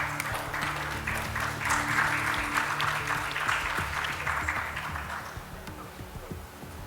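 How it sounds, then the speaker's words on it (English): Steady applause from an audience at a commemorative coin release ceremony, sustained dense clapping throughout at moderate distance with a faint voice beneath. "Let's have a round of applause for the shawl as well."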